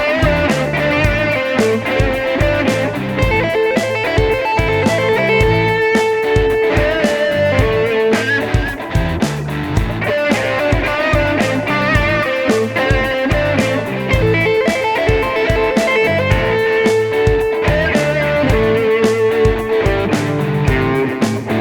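A guitar lick in an odd rhythmic grouping, played at about 110 beats per minute with effects and distortion over a backing groove, steady and loud throughout with no talking.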